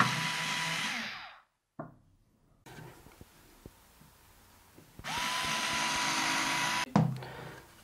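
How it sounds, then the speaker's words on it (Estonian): A power drill boring small pilot holes for screws in a wooden flower pot's boards, running in two close, high whining bursts separated by quiet handling clicks. "Ja puurime väikesed avad siia ette, et vältida seda ohtu, et kruvi võiks selle laua puruks keerata."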